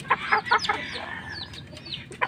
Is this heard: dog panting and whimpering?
no